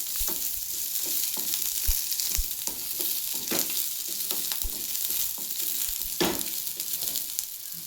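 Chopped onion and coriander sizzle steadily in hot oil for a North Karnataka chana dal curry, with a continuous close crackle and occasional soft stirring clicks.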